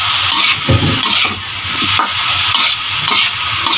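Grated coconut and beef are stir-fried for dendeng in a hot pan, giving a loud, steady sizzle with the rhythmic scrape of a spatula stirring close by.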